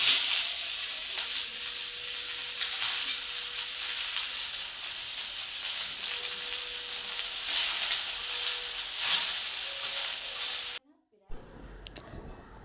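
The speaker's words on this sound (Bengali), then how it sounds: "কালো জিরে দিয়ে দেব। কেটে রাখা বাঁধাকপিগুলো দিয়ে দেব।" Chopped cabbage frying with black cumin in a little oil, a steady loud sizzle and hiss with faint stirring scrapes, cutting off abruptly near the end before quieter noises.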